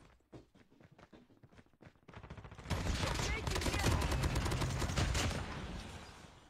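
Dense game gunfire from Call of Duty Mobile, sparse clicks and thumps at first, then from about three seconds a loud, sustained burst of rapid shots that stays intense to the end.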